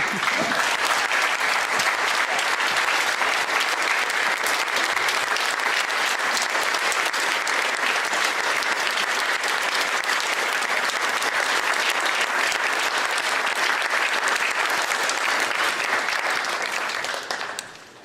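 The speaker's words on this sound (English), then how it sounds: "I'd like everybody to stand for a moment and give Jared an applause." A standing audience gives Jared a long, loud, dense round of applause. The clapping holds steady for about seventeen seconds before tapering off at the very end.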